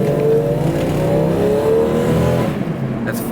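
A classic red Jeep Cherokee XJ with the 4.0L engine accelerates hard from 15 to 40 mph, its loud, close engine note rising steadily in pitch.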